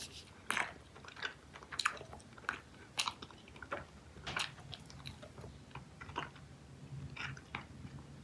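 Someone chews Dubble Bubble fruit-flavored bubble gum close to the microphone, with soft, wet, squishy bites and smacks repeating irregularly in a quiet room.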